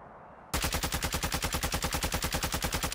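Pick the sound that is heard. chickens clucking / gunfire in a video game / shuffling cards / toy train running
gunfire in a video game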